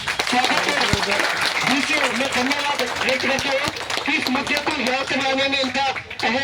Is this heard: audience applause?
yes